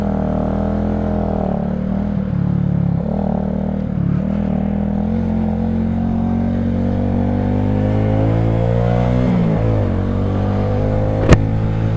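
An XMT 250 motorcycle rides through New York City traffic, its mid-pitched engine humming steadily, with the revs rising and easing as it shifts, and a sharp click near the end.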